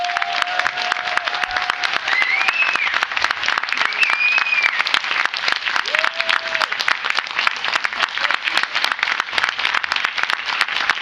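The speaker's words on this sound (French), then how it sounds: "On va vous demander un tonnerre d'applaudissements pour" Sustained audience applause fills the room at the close of a conference panel, dense steady clapping throughout with a few faint voices and whistles over it.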